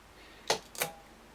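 A Peco PL-10E point motor on a model railway, fired by a capacitor discharge unit, gives two sharp close mechanical clicks about a third of a second apart, then quiet.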